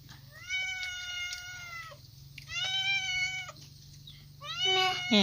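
A cat meowing three times in close succession: drawn-out, clear meows separated by short pauses, loud and close over a steady low background hum.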